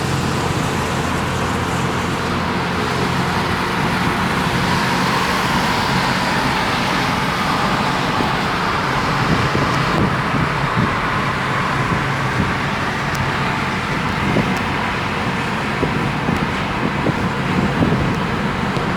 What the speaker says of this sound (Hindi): थोड़ी सी भी बहुत ज़्यादा ट्रैफिक का शोर बहुत ज़्यादा है।